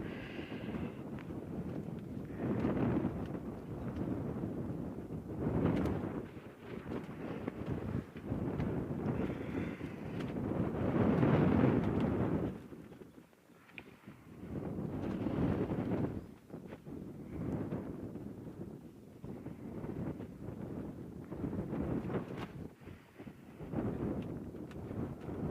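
Strong gusting wind buffets the microphone outdoors in a nature setting, a loud, continuous rumble swelling and easing in waves with no talking.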